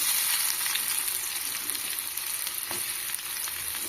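Cabbage for an aloo cabbage curry fries in hot oil with curry leaves and onion, giving a steady, dense sizzle with occasional faint stirring clicks, close and uninterrupted.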